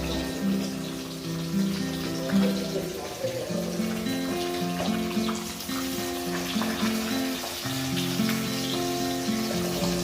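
Pabda catfish, also called butter catfish, frying in white cooking oil, giving a steady, fairly loud sizzle throughout with a constant music bed underneath.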